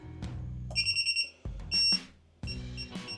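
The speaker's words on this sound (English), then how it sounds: "you can hear it beeping" A drone's arming beeper on a Geprc Vapor D5 quadcopter sounds a series of short electronic tones, first a quick rapid run then longer steady beeps, separated by brief gaps with some background hum.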